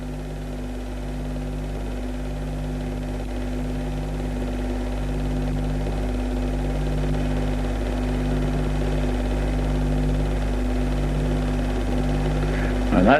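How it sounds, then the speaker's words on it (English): A farm tractor's winches grind steadily to haul a trailer carrying a 1960s yacht up toward it, a constant low mechanical drone with a regular pulsing beat and a slight rise in loudness near the end. "that's the tractor with its winches operating, and it's pulling the trailer and yacht up towards it"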